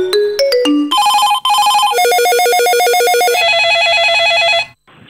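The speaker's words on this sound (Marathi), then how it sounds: "अचानक कुठून तरी तुम्हाला एक असा फोन येतो" A telephone rings with a loud, clear electronic ringtone of rapid repeating trilled beeps that shift pattern a few times, heard alone before cutting off abruptly near the end.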